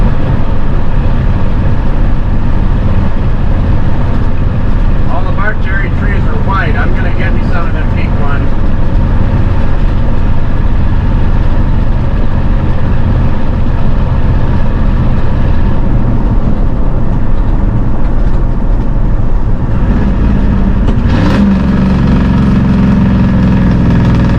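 A Ford F350 pickup cruises at around 55, its engine a steady low drone filling the cab from start to finish, with people talking over it.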